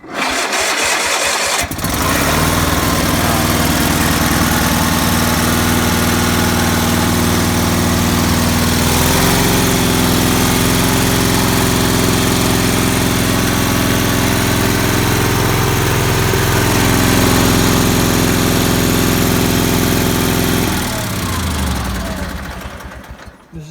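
Restored vintage Sears garden tractor with a 42-inch deck, its small engine starting and running at a loud, steady rumble close by for about twenty seconds before shutting down.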